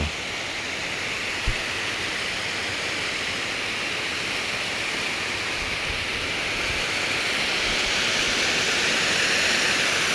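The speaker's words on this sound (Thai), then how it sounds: "เสียงน้ำตกนี่ก็ เป็นตาสะออนร้ครับพี่น้องเออ" Rushing water from a waterfall along a mountain creek in Mukdahan province, Thailand, gives a steady, dense roar that holds evenly throughout with no voices over it.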